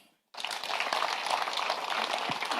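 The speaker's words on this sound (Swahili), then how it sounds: "sasa watu wafanyikazi wa county government ya Kiambu, mjipigie makofi" Kiambu county government workers break into sustained applause after a moment of silence, steady dense clapping from a crowd filling the room.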